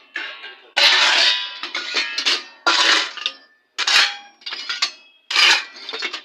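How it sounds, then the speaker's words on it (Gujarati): Pots, pans and steel utensils clatter and clank as dishes are washed, coming in loud, irregular bursts of metallic scraping and knocking separated by short pauses. "પહેલાં ફટાફટ મારા વાસણ ચડાવી લો અવાજ બહુ છે સોરી"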